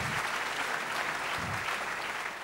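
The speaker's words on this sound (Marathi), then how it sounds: "यांच्यासाठी एकदा जोरदार टाळ्या होऊन जाऊ द्या." Steady, dense applause from an audience at an inaugural lamp lighting ceremony in Nashik, even and continuous throughout with no speech over it.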